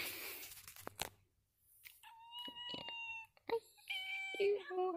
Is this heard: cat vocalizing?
yes